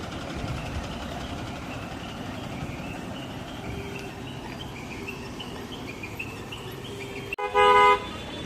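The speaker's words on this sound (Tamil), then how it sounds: "ரெண்டரை மணி செங்கனாசேரி வண்டி கிளம்பியாச்சு" A KSRTC bus prepares to depart at a Tamil Nadu bus stand, its engine idling steadily under crickets and ambient chatter before a loud, close horn blares briefly near the end.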